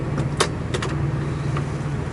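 Windshield wipers run inside a 1974 Oldsmobile Hurst, making a few short, soft swishing and thumping strokes over a low, steady cabin hum, with no speech.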